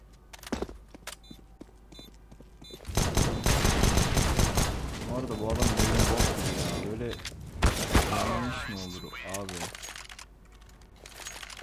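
Gunfire in Counter-Strike: Global Offensive, dense rapid bursts of shots through the middle with scattered single cracks at the start and end, alongside keyboard clatter and talking.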